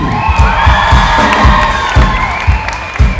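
Loud crowd cheering and whooping fills the space during the opening act of an event, with a rhythmic low thumping beat running underneath and sustained shouts throughout.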